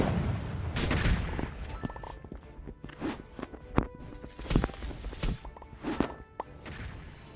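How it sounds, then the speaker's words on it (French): Gunfire from weapons shooting enemies in the Roblox game Lame de Pixel, a run of sharp, close shots and impacts in an uneven rhythm over steady game noise, with no talking. "il y aura différents types de tirs, donc voilà, on les élimine"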